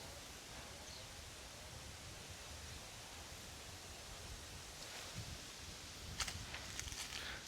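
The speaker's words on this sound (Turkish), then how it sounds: "şu rüzgarın ağaçlara vurduğu ses harika yani gerçekten" Steady, broad rushing noise of wind through tree leaves, soft and continuous, with a few light rustles and taps near the end.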